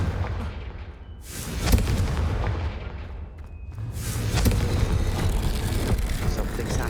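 The Confringo blasting spell in Hogwarts Legacy sets off two loud, booming blasts about two seconds apart, each with a rushing roar that fades out, heard close with no talking.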